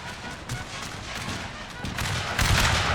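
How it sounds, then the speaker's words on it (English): Massed musket volleys crackle in a Total War Shogun 2 American Civil War battle with about 10,000 units, a dense rolling rattle of distant shots that swells louder toward the end. "Nice volley right there."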